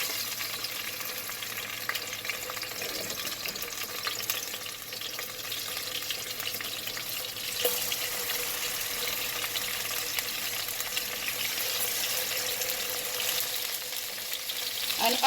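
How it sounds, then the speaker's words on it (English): Oxtail browning in a hot pot makes a steady close sizzle and crackle, with a few brief clinks and stirring scrapes over the constant frying hiss. "So I'm going to start now by browning my oxtail."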